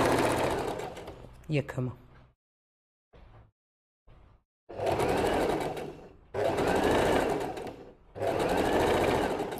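A sewing machine stitches a slit tunic in three sustained bursts, close and loud, after a stretch of handling noise and pauses; someone speaks briefly near the start.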